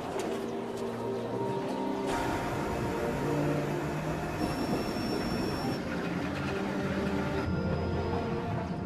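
A mountain aerial tramway car, running since 1963, climbs the Santa Rosa and San Jacinto mountains. The ride makes a continuous rumble and rattle with shifting metallic squeals and whines, and no one talks.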